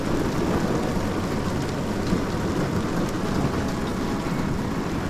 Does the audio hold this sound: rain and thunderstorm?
yes